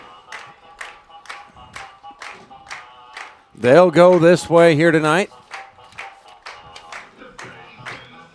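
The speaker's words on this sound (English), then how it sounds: "The fans put their hands together" Football fans at a high school game between the NV Huskies and Triplains-Brewster Titans clap in a steady rhythmic beat throughout, with a loud burst of voices or music in the middle and an announcer talking over it.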